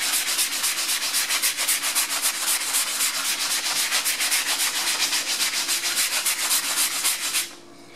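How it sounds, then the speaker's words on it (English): A pot scrubber rubs hard across the soapy surface of a painted motorized projection screen in fast, steady back-and-forth strokes, loud and close, for about seven seconds before stopping abruptly. "Now, I'm gonna take this pot scrubber."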